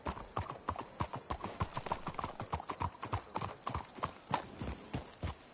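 Horse hooves clip-clop in a steady, brisk rhythm throughout a video game scene, several animals close by with overlapping footfalls.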